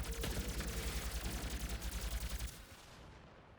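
Gunfire from the Doom video game beta, a weapon loosing special burst rounds in a rapid, evenly spaced volley of loud punchy shots that stops abruptly, leaving a short fading tail.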